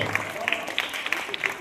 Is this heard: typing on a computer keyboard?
no